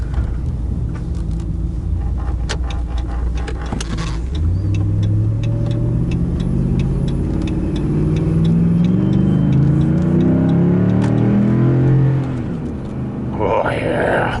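A 2011 Dodge Power Wagon's Hemi V8 revs loud and close from inside the moving truck, its deep rumble climbing through rising harmonics, holding high, then easing off near the end.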